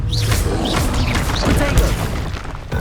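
Confringo explosion spells in Hogwarts Legacy, cast during a trial: a run of booming, crashing blasts and thuds over a dense, loud game soundscape, with faint voice-like chirps mixed in.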